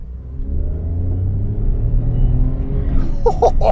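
A small old car engine with a newly fitted clutch runs close and loud as a low steady rumble that builds slightly. Faint clicks and rattles come in near the end, with no one talking.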